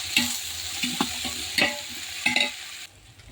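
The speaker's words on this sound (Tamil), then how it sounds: "கொஞ்சமாக கருவேப்பிலை வெங்காயம் வெங்காயம் நல்லா வதக்கிக்கலாம்" Onions and curry leaves sauté in oil in a pan. A steady moderate sizzle runs under several distinct spoon scrapes and stirs. The sizzle drops away near the end, and no one speaks.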